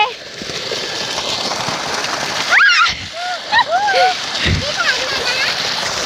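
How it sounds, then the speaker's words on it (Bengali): Water splashes and sloshes steadily across a tomato field, a continuous wet spatter with a few louder surges, while bird calls chirp nearby over the flow. "টমেটো খেতে জল দেওয়া হচ্ছে"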